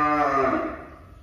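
A single loud, drawn-out moo from a cow on a Vietnamese cattle farm, close to the microphone, fading slowly toward the end.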